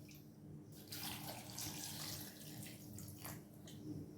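Garlic cloves and green chillies rinsed under running kitchen water, a soft, fairly quiet rush and splash from the tap that rises and falls slightly throughout, with no talking.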